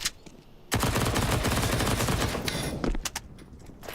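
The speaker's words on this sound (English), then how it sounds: "SMG shots find no damage." SMG gunfire in a Counter-Strike match on the Nuke map, a dense rapid burst starting sharply and running for about two seconds, then tailing into scattered shots and game effects.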